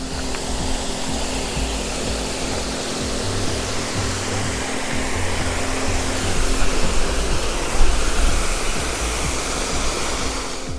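Riemenstalder Creek rushes steadily nearby, a loud, dense, unbroken wash of flowing water with no voices over it.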